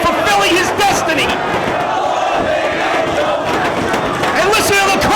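A loud wrestling crowd at a live independent pro-wrestling show roars and cheers continuously, a dense wall of shouting voices with swelling chants and yells throughout.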